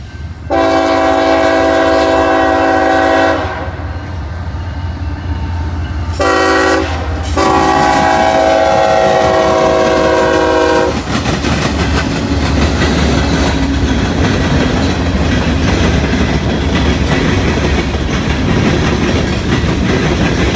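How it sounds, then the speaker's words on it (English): A CSX train, an empty coal train at Fostoria, blasts its horn in long loud chords with short gaps, then its wagons rumble and clatter steadily across the railroad diamonds close by. "This is going to be CSX coming across these diamonds."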